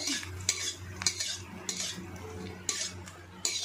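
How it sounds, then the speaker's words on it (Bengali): Papad (poppadoms) frying in a pan, soft hiss under regular metallic scrapes and clinks of a utensil against the pan every half second or so, close and fairly quiet, no talk. "গাইস দেখতেই পাচ্ছ আমি এখন পাঁপড় ভাজছি"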